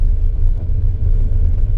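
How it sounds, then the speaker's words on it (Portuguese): A Fiat Cronos HGT passes over a speed bump at 30 km/h, giving a steady low rumble of road and engine noise from inside the cabin with no distinct thump, and no one talking. "Vamos para a terceira lombada, 30 por hora."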